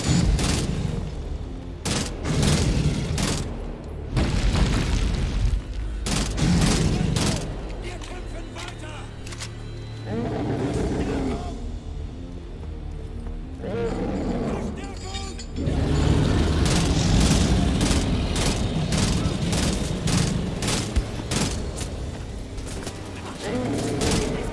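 Video game gunfire in sharp rapid bursts and single cracks, loud clusters of shots alternating with quieter stretches of mechanical clatter, heard alongside a player talking.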